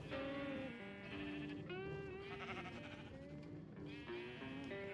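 Sheep in Minecraft bleating repeatedly, wavering calls overlapping one another at close range, fairly quiet with no talk.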